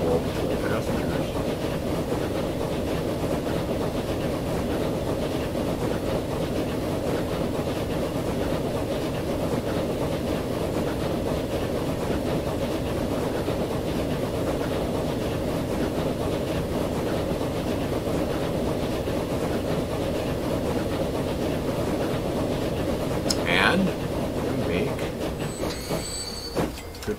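Trains run in the Transport Fever 2 simulation game, a steady, loud rumble of rolling wheels and engine drone continuing throughout, with a few brief higher clicks near the end.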